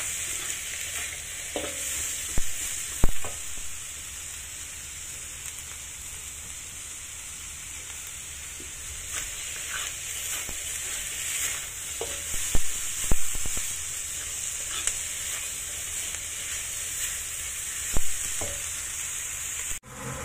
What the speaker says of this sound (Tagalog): I-fry muna natin yung onions hanggang sa lumabas yung aroma ng onions.